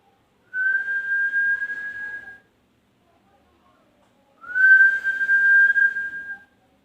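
Two steady, clear mouth-whistled notes from a song from the film Beta, each held about two seconds with a pause between, close and fairly loud, with no speech.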